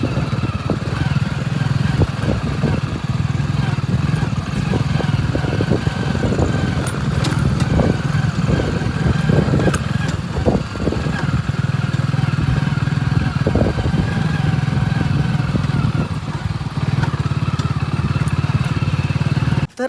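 A kick-started motorcycle rides along with a loud, steady engine drone. The engine stays close for the whole stretch, with wind noise and slight revving changes.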